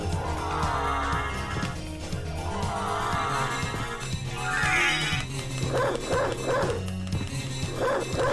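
In the Sega Saturn version of Castlevania: Symphony of the Night, the wolf form's bark attack fires off rapid game barks and yips, several in quick succession near the end, layered over the game's background music and effects.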